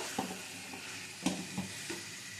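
Fried pumpkin and potato are stirred together in a pan, a soft steady sizzle with a few dull scrapes and light knocks from the spoon, close by and fairly quiet.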